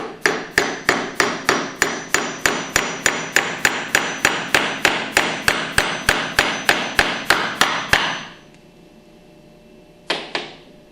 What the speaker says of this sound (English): tap it in with a hammer gently until you feel it bottom out